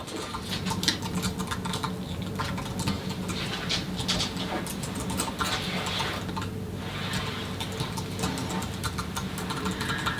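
Fingers type on a computer keyboard in a rapid, uneven patter of small clicks lasting several seconds, with a faint hum underneath.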